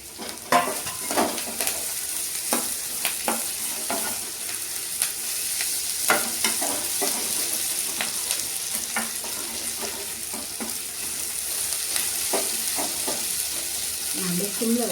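Chopped potatoes sizzle and fry in oil with onion, fennel and curry leaves, a steady soft crackle broken by repeated scraping clinks of a spoon stirring in the pan.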